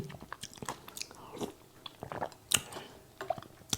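Someone chews and bites while tasting pork noodle soup with tender stewed pork, blanched cabbage and carrot, giving soft, irregular close-up mouth crunches and squishes with no talking.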